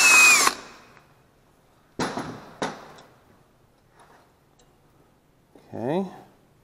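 Power tool working on 10 mm head bolts of a Honda GXV160 OHV small engine: a few short, separate bursts with quiet gaps, plus a brief rising whine near the end, close by in a workshop.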